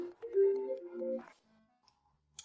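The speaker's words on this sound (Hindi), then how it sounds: "ये तो झो सहायक का फोन है।" A phone belonging to an assistant rings with a short electronic melody of stepped tones that plays clearly, then stops and leaves near-silence.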